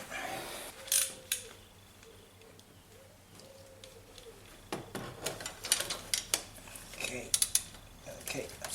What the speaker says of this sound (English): that's a 10mm bolt locking the injection pump there. Loosen that off.